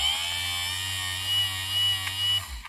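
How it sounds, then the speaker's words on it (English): A 1967 Cadillac Eldorado power window motor runs on a bench with a steady electric whine and hum, close and alone, then winds down at the end. "we'll go ahead and apply power to the motor to test it"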